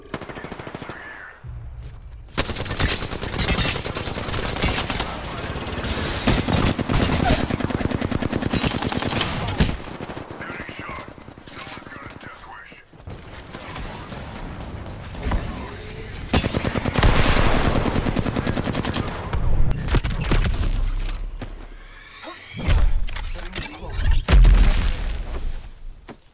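Sustained automatic weapon fire in the shooter game Apex Legends rattles through long, loud bursts broken by short pauses, with booming impacts near the end.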